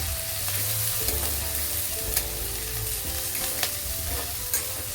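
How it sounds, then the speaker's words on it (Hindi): Chopped onions, two large ones, fry and sizzle in a pan for a chicken dish, a steady loud crackle with occasional stirring scrapes and small pops, no voices. "प्याज को ब्राउन करके भून लेते हैं"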